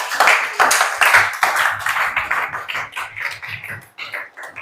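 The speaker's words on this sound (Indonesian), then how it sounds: "Ya, tepuk tangan buat Arifal." Classroom applause for a student, a burst of close clapping from a small group that starts strong and gradually thins out, with a few scattered claps continuing toward the end.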